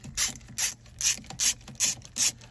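A ratchet clicks in six quick, evenly spaced bursts, close and crisp, while loosening 6mm bolts on the shifter linkage of a B5 S4 during engine removal.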